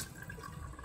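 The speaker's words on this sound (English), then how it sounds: "while that water is draining out" Aquarium water drains out during a water change: a steady, close gurgling wash of flowing liquid with no voices.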